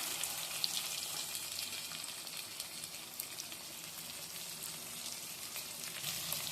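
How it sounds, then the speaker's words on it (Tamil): Chopped onions with salt frying in a pan for crab gravy, a steady bright sizzle with faint stirring, continuous and fairly close, no voices. "வெங்காயம் நல்லா பொன்னிறமா வதக்கணும்"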